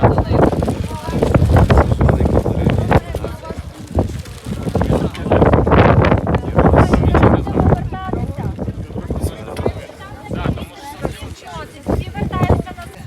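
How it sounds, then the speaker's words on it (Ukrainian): Strong mountain wind on snowy Hoverla in the Carpathians buffets the microphone in heavy roaring gusts, with people talking loudly through it. "Такий страшенний вітер, що просто е, сніг збиває."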